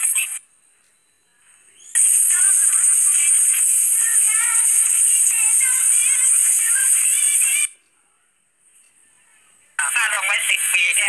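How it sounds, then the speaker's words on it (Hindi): Live radio station broadcasting from Seoul, South Korea, streamed through the Radio Garden app on Android, with a bright, thin broadcast signal in two loud stretches separated by quiet gaps. "अब मैं अपनी आवाज़ को थोड़ा कम करके आपको सुनाना चाहूँगा, देखिए कि कहाँ के स्टेशंस में क्या कैसे सुनाई देते हैं"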